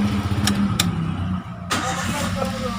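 A car engine fires up with a short cranking burst and settles into a steady idle, loud and close, with clicks from the cabin beforehand.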